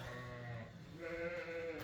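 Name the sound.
sheep bleating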